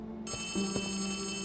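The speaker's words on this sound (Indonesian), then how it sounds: "Apalagi ada telepon bunyi nih." Telephone ringing in the video game Poppy Playtime Chapter 3, a steady electronic ringing tone heard alone, with a couple of soft thuds beneath it in a quiet space.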